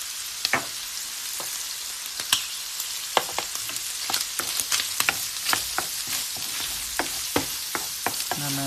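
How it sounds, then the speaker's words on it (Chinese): Ginger and garlic stir-fried with shrimp in a wok give a bright, constant sizzle, punctuated by repeated sharp clacks of a utensil scraping and tossing. "煸炒一下，我们可以把姜和蒜放进去"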